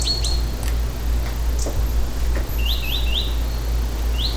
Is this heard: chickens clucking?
no